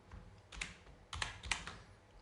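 Someone types a web address on a computer keyboard in a few quick, faint bursts of key clicks, alone with no talking.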